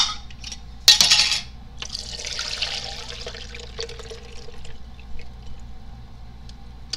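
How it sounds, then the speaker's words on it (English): Elderberry tincture and syrup poured from a container into a colander lined with fine cheesecloth: a sharp splash lands near the start, followed by a steady, close trickle of liquid draining through for several seconds. "Pour it in."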